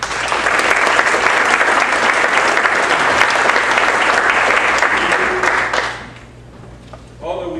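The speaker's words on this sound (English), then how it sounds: "so please give yourself a round of applause." A large audience gives a loud, dense round of applause for about six seconds, then it quickly fades and a speaking voice begins.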